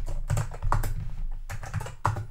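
Keys clatter on an Apple IIGS keyboard as a BASIC program is typed in, a close run of quick, uneven clicks and thumps with brief pauses between bursts.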